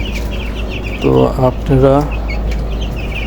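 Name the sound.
eight-day-old broiler chicks chirping during Ranikhet vaccination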